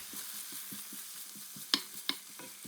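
Chopped garlic, ginger and onion sauté in a pan with a quiet, steady sizzle, broken by soft rhythmic stirring scrapes and two sharper clinks of the utensil against the pan.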